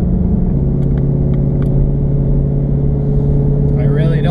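Low, steady engine rumble from a Ford Shelby GT350 driving on country roads, a continuous loud drone that holds throughout, with faint chatter in the background.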